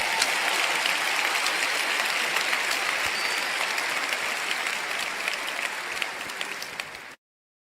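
Sustained applause from a large congregation at a Christian church conference, dense steady clapping that fills the hall before cutting off abruptly.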